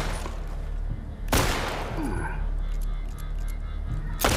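Gunfire aimed at the player in the video game Mel's Journey: two sharp, loud broadband shots about three seconds apart over a steady noisy game backdrop.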